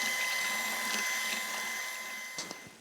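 Electric mixer whirring steadily as it beats kue cucur batter for brown sugar cucur cake, a continuous motor hum with a faint clatter near the end.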